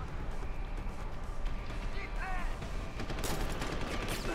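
Rapid gunfire in the video game Deus Ex: Human Revolution, a steady loud rattle of shots running throughout with other game sounds mixed in.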